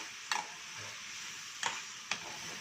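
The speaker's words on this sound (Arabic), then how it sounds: "الكبد والجوانب كده، عايزينها تتشوح كويس خالص خالص" Liver stir-frying with black pepper in a pan: a soft, steady sizzle with three sharp scraping stirs of a utensil spaced across a couple of seconds, quiet and close.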